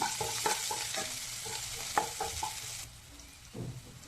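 Finely chopped green chilli frying for egg burji, a bright hiss with rhythmic spoon scrapes that thin out toward the end before one last stir.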